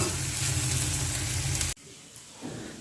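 Banana flower (mocha) fries in a pan with a loud, dense sizzle and stirring that cuts off abruptly partway through, leaving faint quiet rustles and a small knock afterward.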